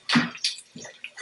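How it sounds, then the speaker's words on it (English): Vegetables rinsed under running tap water for chicken stock, a few short splashing gushes and drips, close and fairly soft. "I'm just going to rinse it off."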